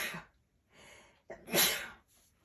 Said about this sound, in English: you guys, I gotta sneeze.